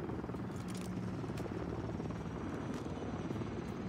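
A killstreak helicopter in Modern Warfare 3 whirs steadily overhead, its thick, continuous rotor chop loud and even throughout, with no talking.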